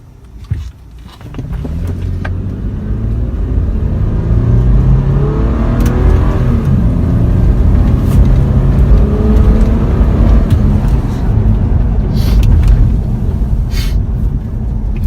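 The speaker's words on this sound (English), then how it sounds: "I'm just gonna slow down and then we hit the gas." Toyota Prado 120 series SUV accelerating hard from a slow roll, the engine note rising steadily and loud as heard from inside the cabin, with no talking over it.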